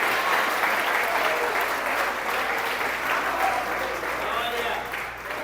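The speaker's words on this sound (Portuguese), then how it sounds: "Você pode aplaudir a Ele!" A church congregation applauds together in continuous, dense clapping that holds steady throughout, with a faint murmur of voices beneath it.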